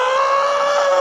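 A human voice imitates a woman screaming in childbirth with one sustained, loud, steady high-pitched cry held for about a second, with no other sound.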